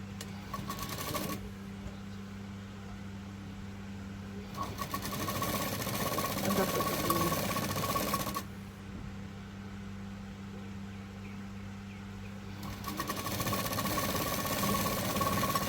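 Domestic sewing machine topstitching a lining to main fabric, running in bursts of steady mechanical whirring separated by quieter pauses, close and fairly loud with a low motor hum underneath.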